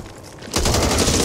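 Rapid bursts of automatic gunfire from the video game Back 4 Blood, fired at a distant target, erupt loudly and densely after a brief quiet moment and continue without pause.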